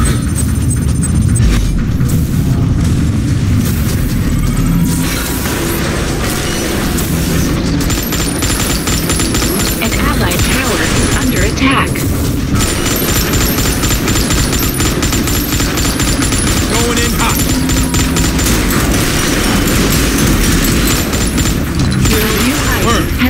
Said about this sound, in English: An enemy tower has been destroyed.